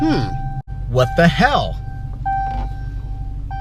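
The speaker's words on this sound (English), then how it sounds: "Anytime that you leave the car with the engine running and you take your keys with you, this annoying sound happens." A Dodge Challenger's warning chime sounds when the key fob leaves the running car, a clear steady beeping tone repeating at intervals over the idling engine while a voice exclaims in surprise.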